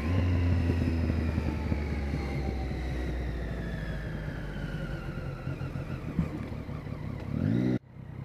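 A motorcycle engine runs loudly and steadily up close, its pitch slowly falling as it eases off, then cuts out abruptly near the end.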